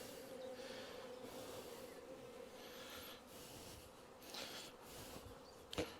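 Honey bees buzzing around a hive while a nucleus colony is transferred to a full hive, a faint continuous hum with a few louder passes near the end.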